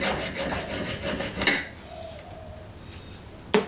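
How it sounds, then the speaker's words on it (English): A junior hacksaw cuts through an RG402 coaxial cable with quick, close rasping strokes. A brief clack and a short scrape follow on a quiet bench. "we'll grab the junior hacksaw and accurately cut it off."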